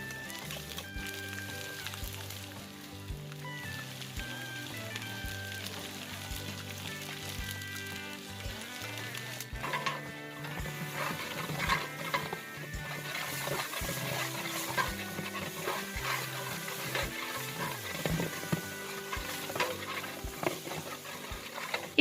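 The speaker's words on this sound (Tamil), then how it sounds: "அரைச்சி வச்சிருக்க இஞ்சி பூண்டு விழுதை வந்து தேவையான அளவுக்கு சேர்த்து அதையும் வந்து எண்ணெயில் நல்லா வதக்கி விட்டுடுறாங்க" Ginger garlic paste frying in oil in a large pot of biryani for 80 people, with a soft continuous sizzle under a regular rhythm of a ladle scraping and stirring.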